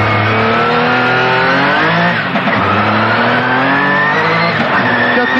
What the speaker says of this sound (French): Démonstration à bord de l'Opel Astra d'Éric et Larry. C'est parti pour la ligne droite.